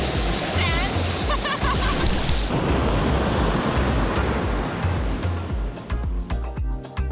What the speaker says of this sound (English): letting the waves crash into us